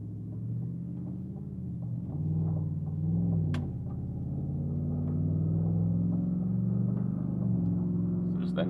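A 2021+ Cadillac Escalade with a 6.2L V8 and 3-inch MBRP cat-back dual split rear exit exhaust cruises steadily, a low droning rumble that rises gently through the gears, heard from inside at even volume.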